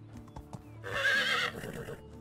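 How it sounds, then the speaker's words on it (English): A horse in the Medieval Dynasty video game gives a loud whinny as its hooves clip-clop up when called, fairly close and clear with no talk over it. "So, call my horse."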